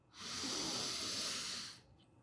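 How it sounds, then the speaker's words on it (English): A single long, breathy exhale lasting about a second and a half during a guided deep-breathing somatic exercise, close and steady with a hissing quality, starting and stopping cleanly with quiet afterward and no talking. "Take a deep breath in, hold it, and exhale with me."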